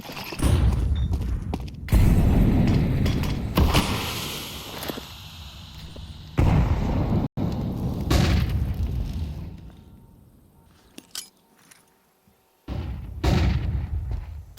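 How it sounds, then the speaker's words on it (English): Grenade blast in a Counter-Strike esports match, heard as several loud booming hits through the clip with a quieter gap before a final burst of game noise. "They'd hope that nade landed"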